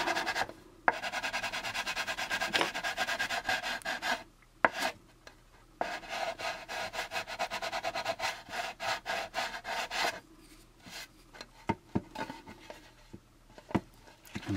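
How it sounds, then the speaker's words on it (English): Cross sanding a plastic part of the AMT U.S.S. Enterprise model kit: steady close rasping strokes run continuously, broken by a few short pauses and light taps, with no talking. "Cross sand and keep checking."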